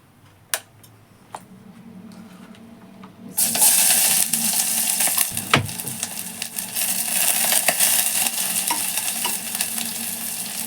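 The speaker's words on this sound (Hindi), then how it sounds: "ऑयल जैसे गरम हो जाएगा फिर हम इसमें डालेंगे ये प्याज" Onion dropped into hot oil, a few clicks and a quiet low sizzle first, then a sudden loud burst of crackling frying that keeps hissing steadily close up, with a utensil clink midway.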